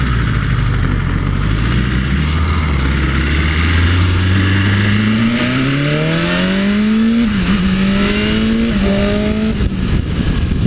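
A 2020 BMW S1000RR motorcycle engine revs hard through the gears, its pitch climbing steadily and then dropping briefly at each near-instant quick-shift, loud and close with no talk.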